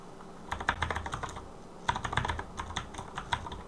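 Close typing on a Razeak Hunter RK-X16 mechanical keyboard in two short bursts of rapid, soft clacking keystrokes, separated by a brief pause.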